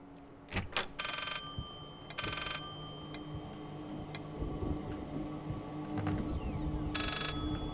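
An old-style telephone bell rings in short trilling bursts inside the horror game Layers of Fear, two early rings and another near the end, among scattered clicks, ticking and a low room hum.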